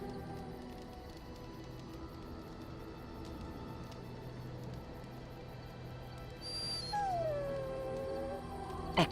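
A dog in the video game Dragon Age Origins howls and whimpers, a rising, wavering cry emerging late over a steady ambient game background, moderately close and without talk.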